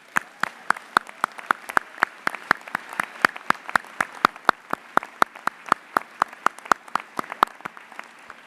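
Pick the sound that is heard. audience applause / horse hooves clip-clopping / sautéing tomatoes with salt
audience applause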